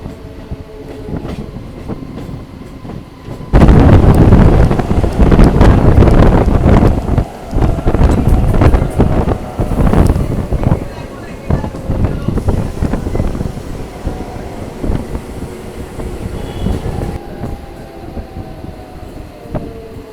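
Local train on the Howrah–Bardhaman main line rumbling loudly past, its heavy clattering roar surging in after a quieter start and holding steady with wind buffeting, then easing slightly near the end.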